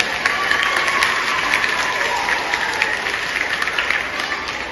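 Audience applause for teachers and parents at a school Shravan festival in Ambarnath, steady dense clapping from a crowd throughout, with faint voices and scattered cheers mixed in.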